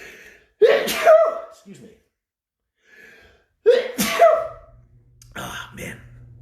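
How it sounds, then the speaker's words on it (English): A single loud, close sneeze bursts out with a sharp breath, followed moments later by a second sneeze-like burst and a brief spoken apology. "I'm about to sneeze, guys"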